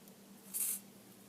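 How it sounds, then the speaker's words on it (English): A can of WD-40 gives one short, faint hiss as it sprays onto tight lug nuts on a car wheel during a brake pad change. "I'm going to spray this WD-40 on them"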